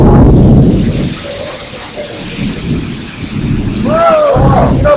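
Hurricane rain and gusting wind lash an outdoor spot in Puerto Vallarta, a loud steady roar with rumbling surges, while people exclaim nearby.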